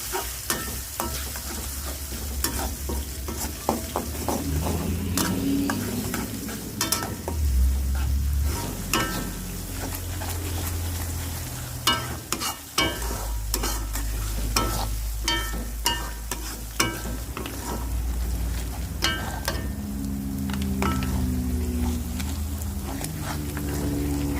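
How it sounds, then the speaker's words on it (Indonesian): Sambal bawang (shallot chili paste) sizzling in leftover frying oil in a pan, stirred steadily with scraping strokes over a continuous close crackle, with no voices. "Tumis sambal, saya menggunakan bekas minyak menggoreng tadi."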